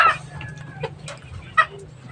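Chickens of a 45-day meat breed give a few short clucks and calls at moderate distance, with faint background hum and no talk.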